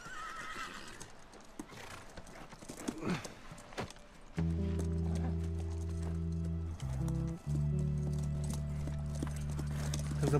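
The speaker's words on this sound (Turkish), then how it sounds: "Atlar sağ." Horse hooves clip-clop in The Last of Us, with a neigh among the hoofbeats and a voice nearby, before sustained game music swells and plays for the rest of the clip.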